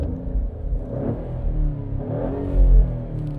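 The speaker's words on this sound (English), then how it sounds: "We're going to rev the engine." A 2026 Maserati Grecale Modena V6 engine in sport mode, with active exhaust, revs up twice with a deep rumbling growl, rising and falling, close by and loud.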